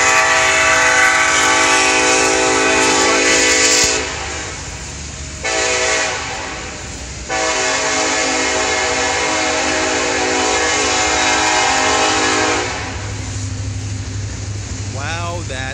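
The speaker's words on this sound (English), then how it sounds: "now we got trains." A train rumbles past close by, its horn blaring in long sustained blasts over the steady roar of wheels, then fading as the cars keep rolling.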